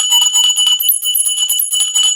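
A small brass puja hand bell shaken rapidly, producing a bright, continuous high-pitched jangle with sustained metallic ringing, loud and close, with no speech.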